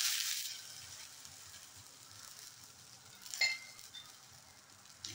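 Thalipeeth made from fasting bhajani flour sizzles steadily on a hot tawa griddle, a soft continuous frying hiss with a brief louder crackle partway through and no talking.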